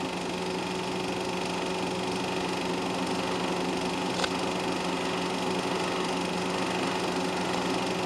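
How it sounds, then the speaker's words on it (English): A small, high-revving motorcycle engine in a Formula 3 racing car drones steadily and evenly throughout, running close by. "Formula 3s are powered by motorcycle engines."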